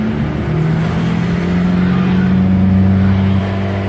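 A car with steering that pulls to the right drives along a main road on a test drive. Its engine hums steadily and loudly throughout, with a constant low drone and road noise and no talking.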